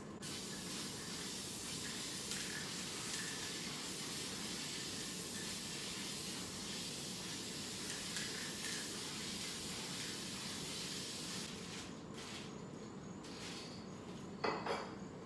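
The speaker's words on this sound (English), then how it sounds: "we're gonna spray this sucker with the polyurethane spray" Polyurethane spray hissing steadily from an aerosol can onto the wood of a homemade kitchen island, a continuous close spray that runs for about eleven seconds before stopping, followed by a few faint clicks and knocks.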